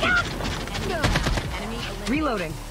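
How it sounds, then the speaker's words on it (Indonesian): Sniper gunfire in the mobile shooter Call of Duty Mobile, a few sharp shots cracking amid game effects and busy voice chat from players throughout. "Oh ada tembakan, ada sniper"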